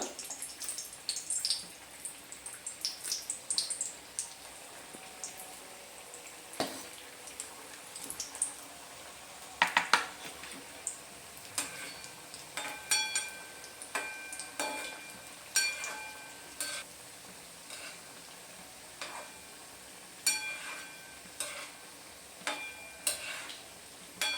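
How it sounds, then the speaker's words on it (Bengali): Flour biscuits frying in hot oil, a soft continuous sizzle with intermittent stirring scrapes and taps, close and moderately quiet, with no voices. "এগুলোও ঠিক একইভাবে ব্রাউন কালার করে আমি ভেজে নেব।"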